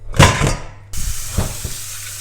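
Tap water runs and splashes onto bones being rinsed for an oven-baked marrow dish, a steady hiss and spray with a few brief knocks and clatters in the bowl.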